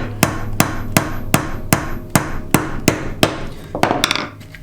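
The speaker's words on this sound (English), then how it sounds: "Nailing on an angle is a pain in the arse" A hammer drives nails at a slight angle into a wooden beehive frame, about ten sharp, evenly spaced strikes, close and loud, with the final few blows coming quicker before the hammering stops.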